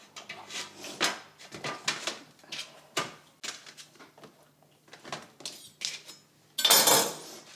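Eggplant halves set down one after another on a metal oven tray, a series of irregular close knocks and light metallic clatter, ending in a louder rattle of the tray.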